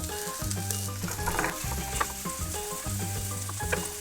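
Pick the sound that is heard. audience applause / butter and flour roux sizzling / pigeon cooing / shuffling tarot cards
butter and flour roux sizzling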